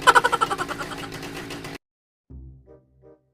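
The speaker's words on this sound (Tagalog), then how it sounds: "parang may nakalas sa makina natin ah" A cartoon jet ski engine sputters and knocks in a quick run of loud putters that trail into a rough rattle, cuts out abruptly, then gives a couple of weak, faint coughs after a pause.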